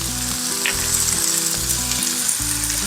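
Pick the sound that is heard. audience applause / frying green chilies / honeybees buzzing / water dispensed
frying green chilies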